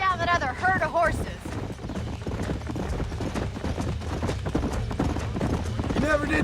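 Horse hooves clip-clopping in the video game Red Dead Redemption, a steady rhythmic trot of close, loud hoofbeats, with a voice speaking briefly at the start and end.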